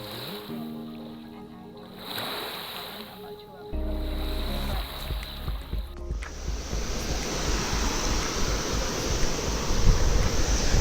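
Ocean waves wash onto a beach in a steady, broad rush of surf. Wind buffets the microphone and there are faint background sounds, with no clear talk.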